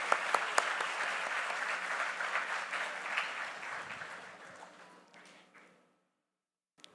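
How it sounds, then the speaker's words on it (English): An audience claps at the inauguration ceremony of the Y20 India Summit 2023. The applause is a dense, steady wash that fades out over several seconds, leaving near silence at the end. "let's give a huge round of applause for all the young people here"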